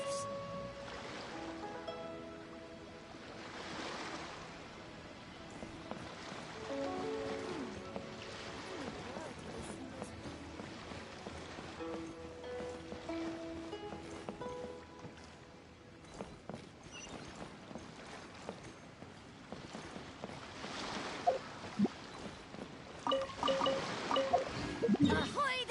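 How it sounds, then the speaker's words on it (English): Ocean waves in the video game Genshin Impact wash and surge steadily, mixed with game music and a few splashing or dripping sounds that grow louder toward the end. "The sound of the ocean waves."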